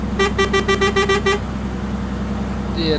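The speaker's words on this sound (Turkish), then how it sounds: "İki çeşit kornamız var." A bus horn in the Euro Truck Simulator 2 video game, on a Mercedes Tourismo bus mod, gives about eight quick, evenly spaced toots over a steady low engine hum, then the engine drones on alone.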